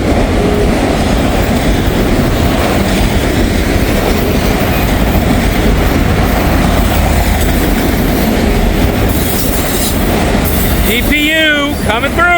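A long freight train with a DPU locomotive rolls past close by, a loud sustained rumble and wheel clatter, with rising squeals and a horn-like tone near the end.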